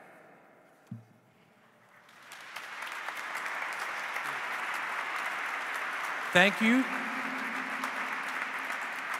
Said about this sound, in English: let's give another round of applause to these bright young students